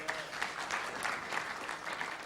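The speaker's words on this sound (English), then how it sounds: "He too deserves a round of applause." Audience applause at a Lions Clubs meeting in Hyderabad, a steady patter of many hands clapping at moderate distance, fairly even throughout the short burst.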